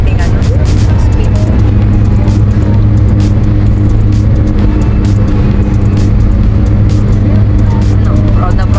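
Steady close cabin roar of a car cruising fast on an expressway at about 100 km/h, a constant low engine and road drone with tire rumble throughout, while people talk over it.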